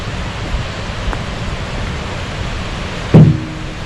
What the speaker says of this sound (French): il y a plein de cascades, plein de torrents et cascades